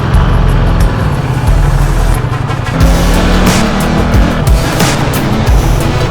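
Ducati XDiavel on new tyres ridden in urban mode, its engine roaring loud and close with shifting revs and rushing wind noise throughout.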